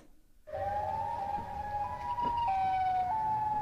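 A wailing siren, played as a Siren Head creature call, rises sharply after half a second of silence and holds a loud, steady tone that steps in pitch, with no voices.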